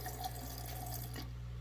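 Cold water runs from a household faucet with a steady splashing hiss over a low hum, then fades near the end.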